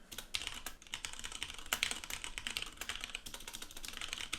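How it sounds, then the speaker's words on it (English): Rapid typing on a computer keyboard, with close, crisp clicks in irregular bursts of keystrokes and no voices. "Maybe typing comments in the video isn't the best idea given how bad I am at typing."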